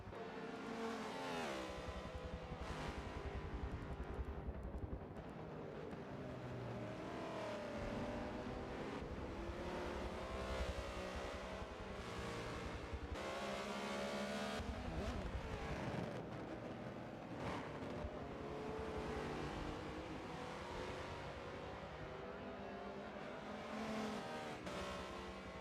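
Race cars in a Daytona 24 Hours sim race howl continuously with engines revving and shifting, passing close in a dense, unbroken roar with occasional tire squeal.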